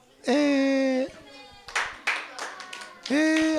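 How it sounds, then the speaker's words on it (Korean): Children at a Sunday school service clap in welcome for new elementary pupils: short bursts of hand claps between loud, sustained children's voices calling out at the start and end. "우리 다시 한번 박수, 환영의 박수"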